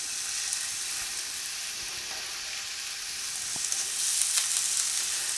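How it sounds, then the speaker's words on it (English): Bite-sized pieces of steak searing in a hot pan, giving a steady close hiss and crackle that grows a little louder toward the end, with occasional small spatters and no talking. "we're going to about half of this meat cooking. We want to get a good sear and a good color on it."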